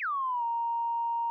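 A plain sine-wave synth tone with nothing added, a pure steady pitch that slides down quickly at the onset, then holds level and loud for over a second before cutting off.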